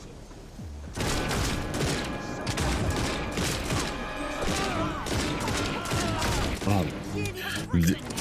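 Pistol shots and combat noise from the game Redfall, a busy stretch of repeated gunfire with clanks and impacts under game music, close and steady, while a man briefly exclaims.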